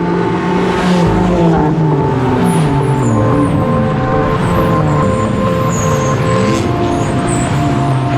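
BMW 325 race cars at the Parnu circuit during a BaTCC race start, engines droning loudly and continuously with shifting revs as the pack accelerates together, close and steady throughout.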